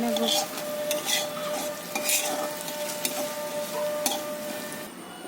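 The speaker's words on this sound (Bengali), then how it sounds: "এবার সুন্দরভাবে লেড়ে ভেজে নেব" Potato aloo bhaji is stirred and fried in a pan, giving a steady close sizzle with repeated scraping strokes of a spatula against the metal, with no talking.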